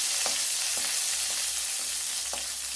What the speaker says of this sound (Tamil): நல்லா வறுத்து வச்சுக்கலாம்